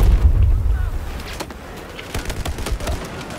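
Gunfire in Battlefield 4 on the Operation Metro map in Conquest mode, heard as scattered sharp cracks and short rattling bursts over a low rumbling background, moderately distant and loud.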